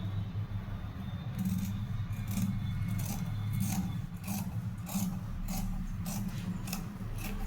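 Scissors cut through blouse sleeve fabric in a tailoring session, producing a steady series of soft, rasping snips and rubs at close range, fairly quiet, with no talking.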